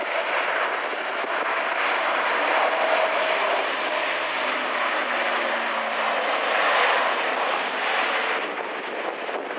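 An Airbus A400M turboprop military transport with Europrop TP400 engines roars steadily overhead at the RIAT 2017 air show, a broad, loud drone holding for the full stretch with no voices.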